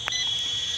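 Alarm on the remote transmitter of a mini MD500 RC helicopter, a short high-pitched electronic beep with a steady tone, clear and close at a field.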